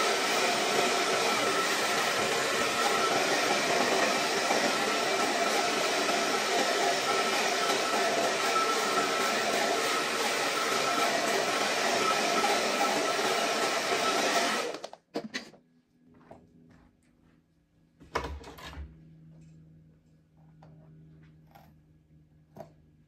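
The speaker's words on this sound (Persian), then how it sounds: "یه سشوار کشی دیگه انجام بدم" A hair dryer blow-dries hair during a haircut session. It roars loudly and steadily for about fifteen seconds, then cuts off abruptly, leaving quiet handling and a few soft knocks.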